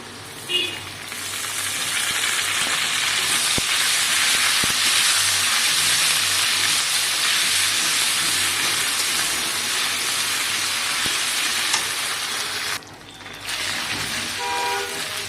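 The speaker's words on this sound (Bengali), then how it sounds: "এখানে আমি আদা রসুন বাটা মিক্স করা দিয়ে দিচ্ছি" Ginger-garlic paste sizzles steadily in hot oil with browned onions in a pan for a chicken, potato and tomato curry, a continuous loud frying hiss with a brief dip near the end.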